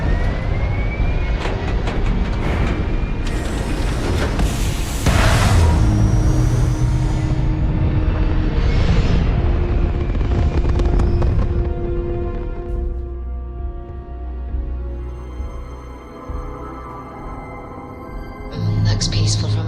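Spaceship liftoff in the video game Starfield: a loud, broad engine roar that swells over the first half and then settles into a steadier, quieter rumble with tonal hum, continuous and close throughout.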